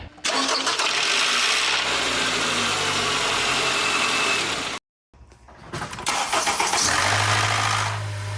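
A used car's engine cranks from cold and catches, running with a rough, loud idle; after a short silence it is started again and settles into a steady rumble.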